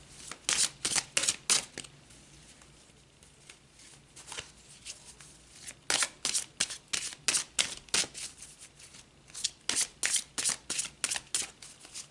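A deck of tarot cards being shuffled and drawn, with loud, close bursts of riffling and snapping in several runs separated by short pauses.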